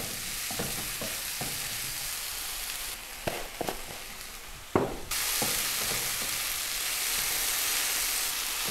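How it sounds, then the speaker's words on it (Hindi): Chicken sautéing in a pan with capsicum, cabbage and finely chopped potato: steady hissing sizzle throughout, broken by a few scraping stir strokes and clatters, with no talking. "वेजिटेबल्स को भी हमने चिकन के साथ सौते कर लेना है।"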